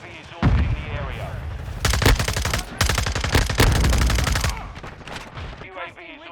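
Rapid bursts of automatic gunfire from a shooter video game, loud and dense, come in clustered volleys with short pauses between them, while a voice talks briefly over the shooting.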